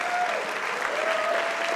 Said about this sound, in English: Can we get a round of applause for the volunteers?